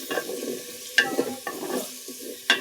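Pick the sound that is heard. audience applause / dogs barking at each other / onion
onion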